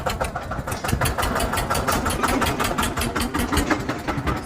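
A diesel tractor engine idles steadily nearby at a tractor market in Malout, Punjab, a continuous chugging rumble with a fast regular knock and no voices.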